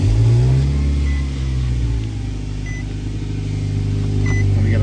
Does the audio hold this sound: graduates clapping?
no